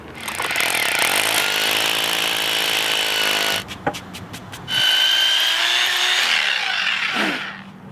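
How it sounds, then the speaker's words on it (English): A loud hammer drill whines continuously while drilling a hole, briefly stops and restarts, then winds down at the end. "Alright, so our hole's all drilled."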